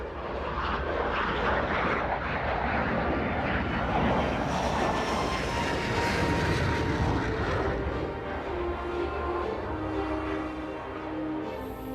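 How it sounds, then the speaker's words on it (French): A combat drone flies in formation with a Rafale fighter and a Falcon 7X business jet, producing a loud, continuous jet roar that holds steady for the whole stretch. "c'est un drone de combat qui vole en formation"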